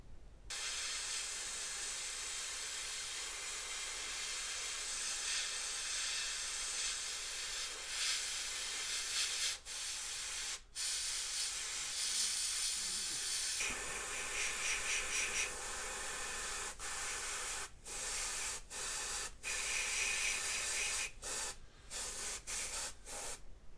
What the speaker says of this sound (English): hold the airbrush away and put an overall mist coat over the top just to blend things in a little bit